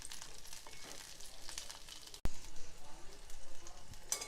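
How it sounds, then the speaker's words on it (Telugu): Eight green chillies, slit down the middle, fry in hot oil, giving a steady, close crackle and hiss with one sharp pop partway through and no voices over it. "వీటిని చక్కగా వేయించుకోవాలి."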